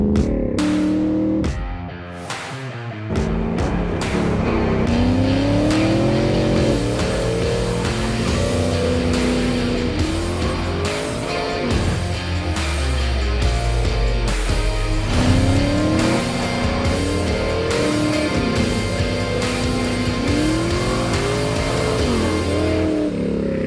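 A 7.0-litre, 625bhp Ruffian Mustang is driven hard on a racetrack, its loud V8 rising and falling through repeated gear changes and revs, with occasional tyre squeal and no talking.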